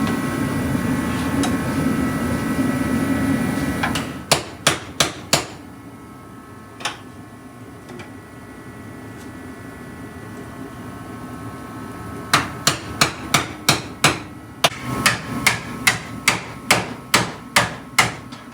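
Sharp hammer strikes drive rivets during a Honda Integra build, first a burst of four quick blows, then a single hit, then two long rapid runs of evenly spaced metallic whacks, close and loud over a steady background hum.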